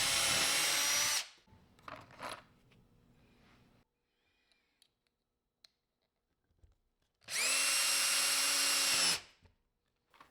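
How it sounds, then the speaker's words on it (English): A power drill whines loudly in two bursts, one at the start and one near the end, drilling pilot holes and driving screws into a wooden planter box, with wood-handling knocks and quiet gaps between. "drilling my pilot holes and driving in some screws to hold everything together"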